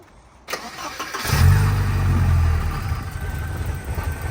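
A Porsche 944 engine cranks and catches, then settles into a loud, slightly uneven idle with a faint lingering rumble, heard up close with no talking.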